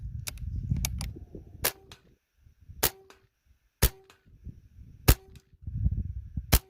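A Benjamin Maximus .177 air rifle fires 19-grain Griffin hollow base slugs at a 40-yard target, giving four sharp, loud cracks spaced about a second apart, with softer rustling and handling noise between them.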